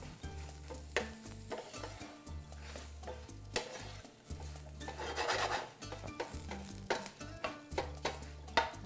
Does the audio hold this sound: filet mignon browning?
yes